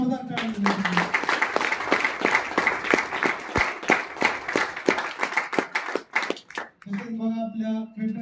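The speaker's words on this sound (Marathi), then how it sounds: "त्या ब्रँडसाठी एकदा जोरदार टाळ्या." Enthusiastic applause from an audience at a Marathi-language brand or business event, cheering the Petar Group brand: dense clapping sustained for about six seconds, framed by someone speaking through a microphone before and after.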